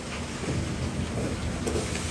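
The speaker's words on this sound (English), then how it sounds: "I said it's raining outside and it looks so nice." Steady rain falls outside, a continuous broadband hiss that stays even and moderately loud for the whole stretch, with no voices over it.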